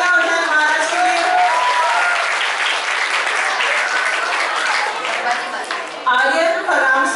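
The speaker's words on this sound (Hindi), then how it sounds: "एक बार जोरदार तालियां हो जाए महाराज के लिए।" Residents in the audience of a Shivaji Jayanti community drama give a strong round of steady applause, with a presenter's voice heard over the clapping at the start and again near the end.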